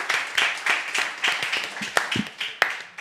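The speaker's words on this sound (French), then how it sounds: "On peut applaudir Agnès" A small studio audience at a French comedy game show claps for a contestant in a thin, uneven patter of individual hand claps, fairly close and with no one speaking.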